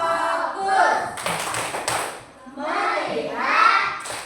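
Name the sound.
children doing rhythmic focus clapping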